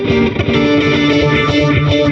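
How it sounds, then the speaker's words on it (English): An electric guitar, a Boss Katana amp with booster, reverb and delay, plays sustained, overdriven chords with a thick, boosted tone and a spacious wash of reverb and echoing delay, loud and close. "switch off the touch wah, add the booster, reverb, some delay"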